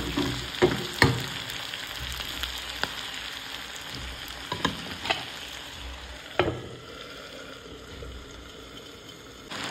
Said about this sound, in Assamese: এয়া মাছ ফ্ৰাই কৰি ল'লোঁ